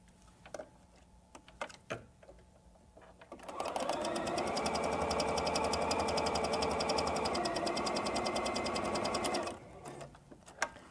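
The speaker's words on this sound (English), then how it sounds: "stitch along the long edge" A sewing machine runs a continuous seam along the long edge of a rectangular fabric piece, a fast close rhythmic clatter of about six seconds framed by a few soft handling clicks, with no talk.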